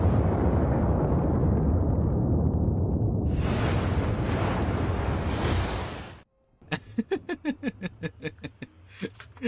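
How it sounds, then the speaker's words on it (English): Minecraft magic wand explosion fired at a torch in a nether tunnel: a loud, sustained rumbling blast that cuts off sharply, followed by a rapid series of crackling, popping debris bursts. "Just quickly just explode it with a magic wand and done."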